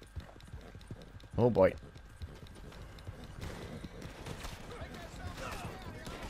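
Horse hooves galloping in Red Dead Redemption 2, a steady rhythmic clip-clop beat running throughout at moderate level, with a brief spoken exclamation and other game sounds over it.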